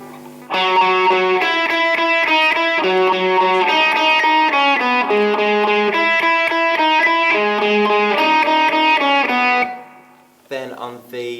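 Distorted lead electric guitar plays a melody, sustained singing notes in a continuous phrase that stops abruptly near the end, followed by a brief faint sound.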